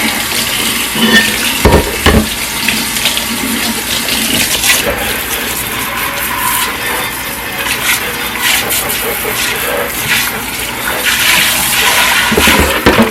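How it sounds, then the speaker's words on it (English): Running water rinses dirty Caraway cookware at a kitchen sink, a steady close hiss and splash with clattering of the pan throughout. "So now I'm just rinsing off all the old dirty stuff."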